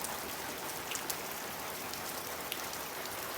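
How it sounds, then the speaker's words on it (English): Heavy rain pouring down in a steady dense hiss during a rainstorm over a building site after a concrete pour, with occasional louder drops landing close by and no voices. "Have quite a rainstorm going on."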